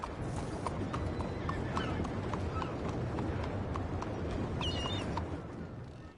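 Horse hooves clip-clopping at a steady pace in Red Dead Redemption 2, continuous and fairly close over a dense bed of ambient noise, with no one talking.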